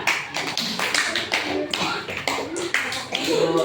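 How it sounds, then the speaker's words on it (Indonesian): A group of people clapping hands in a classroom session, several short bursts of brisk, fairly loud claps with brief gaps between them and some voices mixed in. "tepuk tangan."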